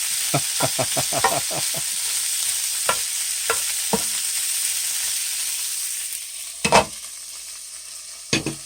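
Teriyaki beef and bacon sizzle on a Grill Boss 90057 dual-fuel grill. A steady frying hiss runs throughout, broken by quick clustered clicks and scrapes of a utensil, then a few sharper clacks near the end, with no talking.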